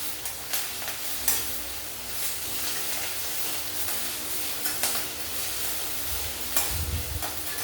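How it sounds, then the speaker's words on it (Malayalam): Mustard seeds, fenugreek, urad dal and green chili sizzle and crackle in hot coconut oil, a steady close frying hiss with scattered sharp pops and a few stirring scrapes, no voices. "എണ്ണ മൂത്തപ്പോഴേ കടുകും ഉലുവയും ഇട്ടു, ഒരു നുള്ള് ഉഴുന്ന് പരിപ്പിട്ടു, പച്ചമുളക് ഇട്ടു"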